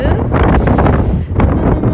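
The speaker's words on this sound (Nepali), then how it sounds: "हावा के भएको" Steady wind buffeting the microphone with a broad, rumbling roar throughout, gusting slightly in strength.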